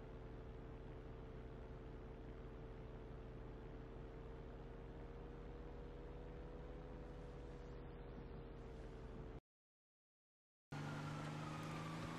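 A car drives in the GTA V video game, its engine holding a steady drone with a faint rising tone, then cutting to brief silence before the engine noise resumes.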